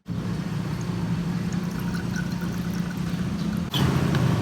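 Water is poured steadily into the cells of a car battery during a refill, a continuous close pouring and trickling sound that runs without a break and shifts slightly near the end.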